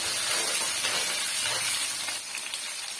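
Garlic and onions sauté in a pan for a chutney, producing a continuous loud sizzle and hiss that thins slightly toward the end, with no talking.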